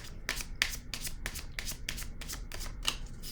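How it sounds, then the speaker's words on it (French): Tarot cards handled and laid down on a table, producing a series of quick, crisp papery snaps and slaps in a steady rhythm, close and fairly soft. "Je vais déposer une carte ici encore."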